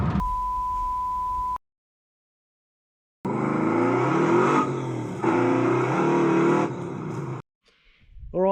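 Holden Commodore VE SS ute with an OTR intake and X-Force exhaust: a brief steady tone, silence, then a loud, throaty V8 revving and accelerating up through the range, close by, ending abruptly.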